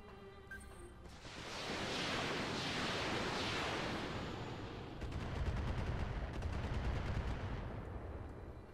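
Mech weapons firing in the Roguetech video game: a sustained roar of heavy, surf-like gunfire and explosions that swells, eases, then returns with rapid machine-gun-style bursts, fairly quiet overall.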